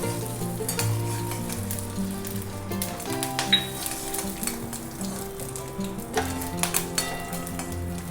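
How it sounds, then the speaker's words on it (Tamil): Mustard seeds, urad dal, chana dal, a single dried red chilli and curry leaves sizzle in hot oil as a tempering for brinjal rice, a steady close crackle with faint tonal sounds underneath. "கடுகு, உளுத்தம்பருப்பு, கடலைப்பருப்பு, அப்புறம் ஒரே ஒரு வரமிளகா, கொஞ்சம் கருவேப்பிலை, இதை மட்டும் தாளிச்சிடலாம் சாதத்துக்கு"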